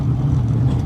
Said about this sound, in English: it was just the sound of the car tires against the road